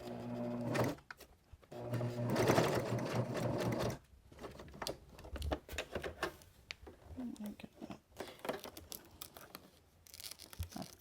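A sewing machine stitches along the side piece of a magnetic wrist cuff in bursts of rapid mechanical whirring, stopping and starting between runs, with quiet handling noises in the pauses.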